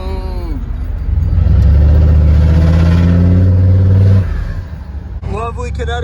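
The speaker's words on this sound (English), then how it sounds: "Lovely Connecticut traffic." Cars in Connecticut traffic accelerate past, with a deep engine rising in pitch and swelling loud for a few seconds before fading. Another engine note climbs at the end, and a voice talks over parts of it.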